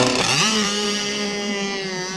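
A Zenoah marine engine on a test run, revved up sharply at the start and then held at a steady, loud, buzzing drone below half throttle, close by with no talk.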